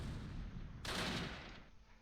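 Mortar fire in the World War II tactics game Close Combat: Last Stand Arnhem, a single broad muffled blast that swells and fades over about a second above a low rumbling battlefield background.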